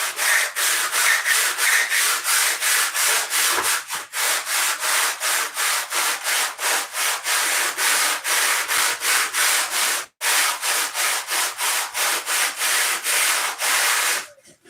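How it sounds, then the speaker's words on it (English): Wood is sanded by hand in long, rhythmic back-and-forth strokes, loud and close, a steady raspy scrape repeating roughly twice per second with a couple of brief pauses. "Gotta get it sanded."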